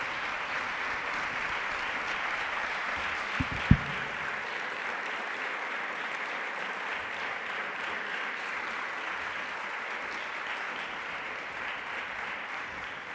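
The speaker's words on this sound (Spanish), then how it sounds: "fuertes aplausos, por favor" An audience at a youth awards gala applauds loudly and steadily for over ten seconds, a dense, even wash of clapping with a couple of sharp knocks early on.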